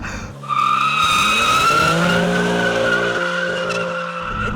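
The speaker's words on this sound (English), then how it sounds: "Well, I think we just roasted the tires instead." Car launched hard with launch control, tires spinning and squealing: a loud, sustained screech with high whining tones over engine roar, starting after a short revving moment and holding for several seconds.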